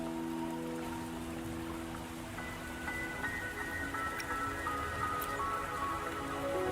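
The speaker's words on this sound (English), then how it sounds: "Don't worry, the rain won't last much longer." Rain falls steadily in the video game Wuthering Waves, a soft, even patter of drops under gentle sustained musical tones, with no talking.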